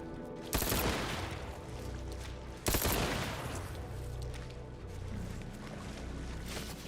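Video game gunfire, two sharp loud bursts of shots standing out over a steady mechanical hum, with no talking.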